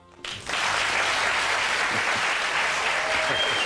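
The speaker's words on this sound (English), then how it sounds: "he deserves your thanks and, right now, your applause" A large television studio audience bursts into applause after a brief quiet moment, and the clapping stays full and steady throughout.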